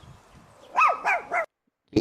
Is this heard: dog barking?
yes